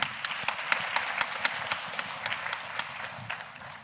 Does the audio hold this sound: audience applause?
yes